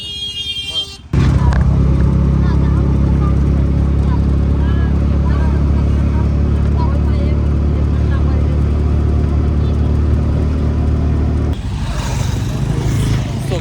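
An auto rickshaw ride, its steady engine drone and road rumble running loudly for most of the stretch after a sharp start, with a brief quieter moment at the end and voices mixed in faintly.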